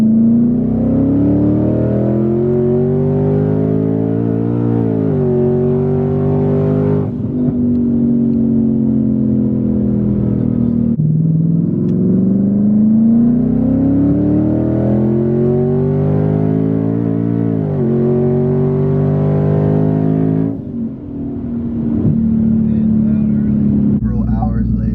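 A 1000 hp twin-turbo Ford Mustang with heavy aftermarket modifications roars through repeated full-throttle pulls, its loud close engine note climbing in pitch, dropping at each shift, then climbing again.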